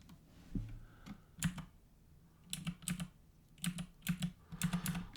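Keys on a computer keyboard pressed in quick shortcut combinations, a few short clustered clicks and taps at a time with small pauses between, close and fairly quiet, no voices.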